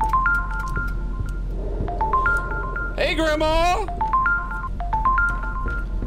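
A telephone rings in a video game, repeated electronic ring bursts in a steady pattern throughout, with a voice speaking briefly in the middle.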